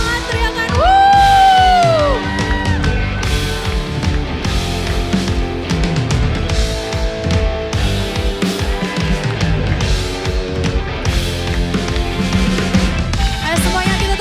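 A church congregation at a worship celebration cheers and shouts loudly and continuously, with strong musical tones and a rising vocal whoop early on, the crowd noise staying dense throughout.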